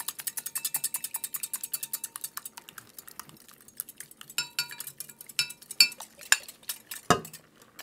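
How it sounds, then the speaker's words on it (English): A whisk beats hot milk and rice mixture in a pot for rice pudding, a quick, steady run of light metallic clicks and scrapes, close and fairly soft, ending with a few sharper clinks and one heavier knock. "And then we whisk that into the mixture here in the pot"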